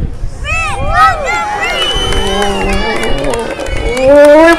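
Crowd at a street performance shouting together on a count of three, a loud burst of many voices yelling close by with overlapping excited shouts that rise again at the end.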